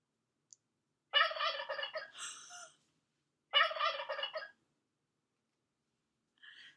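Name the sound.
turkey gobbling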